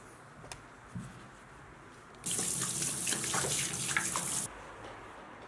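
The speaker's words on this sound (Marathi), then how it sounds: "जरा पाय धुवून घेतो पहिले." Tap water gushes loudly for about two seconds while feet are washed, starting and stopping abruptly against a quiet room.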